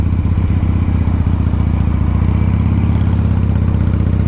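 A 1982 Harley-Davidson FXR Shovelhead with a five-speed gearbox runs loud and close, its lumpy, uneven firing beating steadily through the whole stretch with mechanical clatter layered over it.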